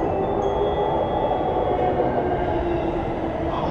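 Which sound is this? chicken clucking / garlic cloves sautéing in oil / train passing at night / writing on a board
train passing at night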